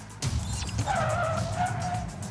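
A Lexus RX 500h skids through an obstacle avoidance test, its tires squealing in long, wavering screeches over steady road and engine noise for about two seconds.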